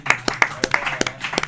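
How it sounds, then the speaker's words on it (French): A small audience at a French-language comedy podcast taping gives a thin round of clapping, about seven or eight distinct sharp claps spaced unevenly over a second and a half, close by, with a bit of voice mixed in. "Bonne main d'applaudissement à tout le monde."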